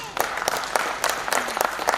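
Applause from a live audience at a Hyderabadi comedy jubilee show, greeting two performers: short bursts of clapping with voices mixed in, fairly close and moderately loud for a couple of seconds.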